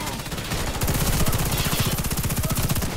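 Rapid automatic gunfire from a new gun in the Warface video game, team deathmatch mode, a loud steady stream of closely spaced shots running nearly nonstop throughout.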